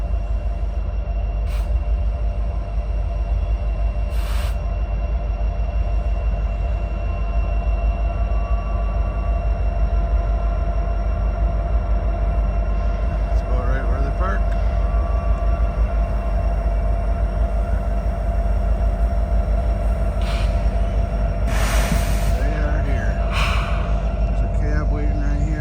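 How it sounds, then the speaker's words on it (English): Coal train from Wyoming's Powder River Basin rolling past on rails, a steady, loud, continuous rumble of wheels and cars throughout, with a brief squeal near the end. "This train comes from Powder River Basin in Wyoming."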